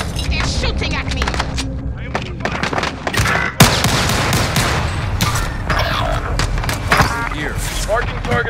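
Dense gunfire from the video game Call of Duty, with rapid overlapping shots, bursts and booms in a continuous loud battle mix, and a game voice speaking over it.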